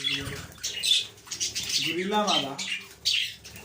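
Budgerigars in a breeding colony chirping and squawking close by, a busy overlapping chatter of warbles and short calls with bursts of louder squawks.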